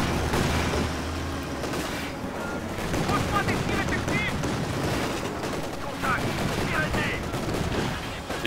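Sniper shots ring out in the Company of Heroes 2 strategy game amid a steady din of battle gunfire and distant booms, with someone talking over the action throughout.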